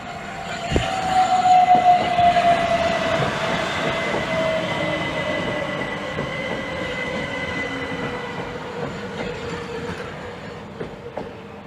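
A Class 375 electric multiple unit, four coaches, pulls into Gillingham station on the Chatham Main Line, rumbling close by with a steady hum and a long whining tone that eases as it slows, plus brief squeals from the wheels.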